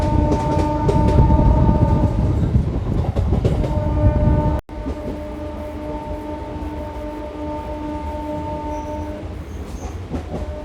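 A MEMU passenger train between Guntur and Vijayawada rumbles along the tracks with rhythmic clatter and a steady tonal hum, loud and close, easing slightly after a brief dropout midway.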